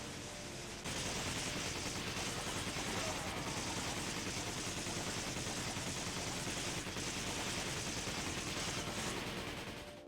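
MP5 submachine gun in Resident Evil 5 firing in one continuous, dense automatic burst lasting several seconds, loud and unbroken, with no talk over it.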